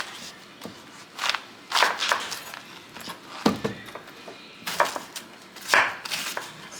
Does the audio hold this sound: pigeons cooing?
no